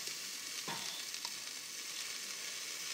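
Mushrooms hit a hot pot for chicken curry and fry with a steady, close hiss, with a couple of brief stirring clinks in the first half and no talking.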